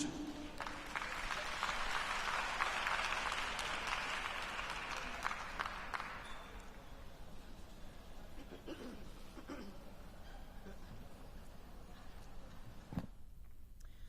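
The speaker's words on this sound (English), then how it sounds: "Can we give them another round of applause?" A conference audience at a national maternal and infant health summit applauds loudly for about six seconds, then the clapping thins into scattered claps and murmurs before fading to near quiet.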